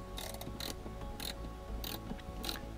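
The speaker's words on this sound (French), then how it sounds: "Je serre les bornes du shunt." Shunt terminals being tightened, four short metallic ratcheting bursts spaced about half a second apart over a faint steady hum, close and quiet.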